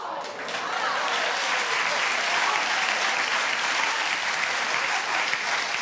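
A studio audience at a daytime talk show claps loudly and steadily, a dense close wash of applause that swells in quickly and holds for several seconds.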